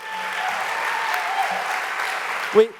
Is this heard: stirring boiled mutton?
no